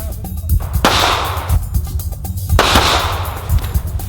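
Two loud, sharp gunshot-like cracks about two seconds apart, each followed by a long echoing tail over a steady outdoor rumble, fired on command at a shooting range.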